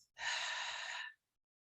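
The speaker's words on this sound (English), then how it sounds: "and breathing out through the mouth." A single long exhale through the mouth during guided meditation, a soft, breathy rush of air lasting about a second, close and alone against silence.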